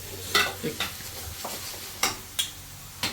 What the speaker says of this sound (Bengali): সব জিরা ধনিয়া দিয়ে দাও, লঙ্কার গুঁড়ি সব দিয়ে দাও